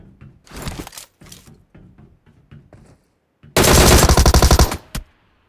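Automatic gunfire in PUBG Mobile rings out as a loud, fast burst lasting about a second, preceded by several scattered shots and thuds, up close with no talk.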